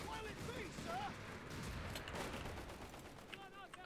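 Artillery barrage in the real-time strategy game Company of Heroes 3, a continuous dense rumble of distant shell impacts and gunfire with crackling bursts, steady and loud throughout under faint background chatter.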